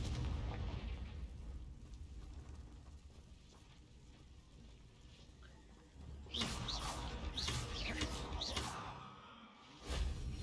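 Confringo, a fire explosion spell, cast in a Harry Potter video game: a whooshing burst followed by crackling blasts, fairly loud, with another short burst near the end above low game ambience.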